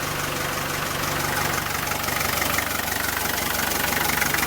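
Engine of a 1987 Land Rover Defender 110 twelve-passenger running at a steady idle, a continuous close rumble with a faint knocking pulse and no voices over it.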